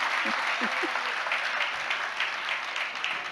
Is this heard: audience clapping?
yes